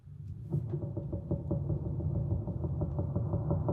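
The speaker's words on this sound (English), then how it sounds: "I sampled the sound of trees creaking, pitched them down, and they became this." Creaking trees, sampled and pitched down for a film score, give a deep, rumbling pulse. It repeats in a steady rhythm of muffled low knocks over a dark drone. The sound is sustained and moderately loud, with no voices.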